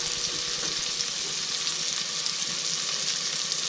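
Onion, tomato and garlic sautéing in a pan give a steady, close sizzle and crackle that runs unbroken from start to end, with no voices over it.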